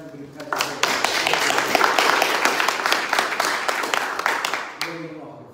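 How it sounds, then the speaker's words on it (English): Warm applause from everybody present at a minor football and hurling championship draw, a crowd clapping briskly and fairly close for several seconds before cutting off abruptly, with a voice heard briefly at the start and end. "So just a little bit of a round of applause, please, from everybody present."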